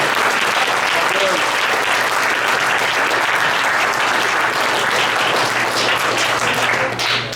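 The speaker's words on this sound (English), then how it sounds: "So big round of applause." A big round of applause at a boys' water polo team banquet, loud dense clapping filling the room for several seconds, with voices mixed in underneath.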